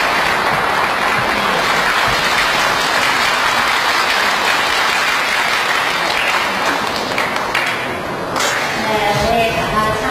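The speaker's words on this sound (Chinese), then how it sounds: "掌声请出来。" Sustained, loud audience applause at a Suzhou pingtan storytelling performance, dense clapping filling the whole stretch with a brief dip near the end.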